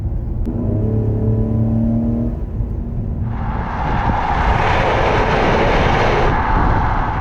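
A 2020 Ford Explorer ST in sport mode with a synthesized exhaust note, a steady engine drone that swells into a louder, harsher rev midway and holds, close and loud.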